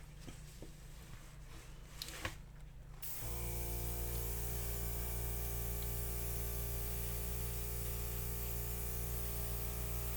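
An airbrush blows a steady, loud stream of air across freshly poured acrylic paint in a Dutch pour, starting abruptly after a few seconds of quieter handling noise and then hissing continuously to the end.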